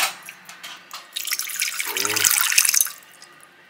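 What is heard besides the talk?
tap water running into a small glass jar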